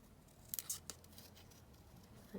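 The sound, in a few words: scissors cutting out a paper topper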